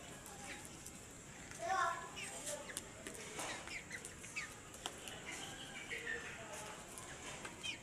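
Chickens clucking outdoors, with small chicks about, soft scattered clucks and chirps at moderate distance under people talking.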